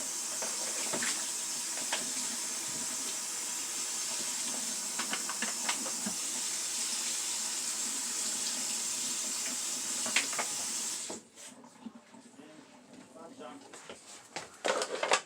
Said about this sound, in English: I'm going to rinse that out because the whole of the black pepper came in